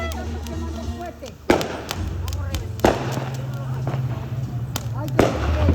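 Fireworks go off outdoors with three sharp, loud bangs spread over a few seconds and smaller pops and thumps between them, while people talk throughout.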